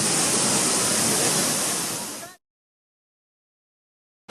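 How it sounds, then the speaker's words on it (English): Flooded Minnehaha Falls thunders as a dense, loud, steady roar of rushing water for about two seconds, then cuts abruptly to silence before a brief return at the very end. "So here's the falls."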